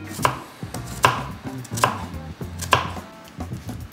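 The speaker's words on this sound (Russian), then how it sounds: "Лучок нарезаем кубиками, как салка." A knife chops onion into cubes on a cutting board, four crisp, evenly spaced strikes, close and clear with no talking.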